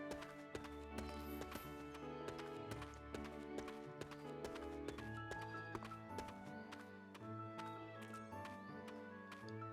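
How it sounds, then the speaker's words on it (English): Footsteps of a character in the video game Another Code: Recollection, a steady run of short clip-clop steps under sustained game music, with no talking. "it took me a second to realize those are his footsteps that I can hear."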